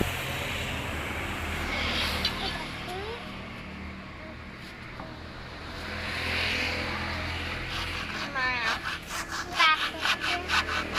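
A saw cutting into the plastic cover of a car battery, rasping steadily at moderate level, with quicker, sharper rhythmic strokes toward the end and faint background noise.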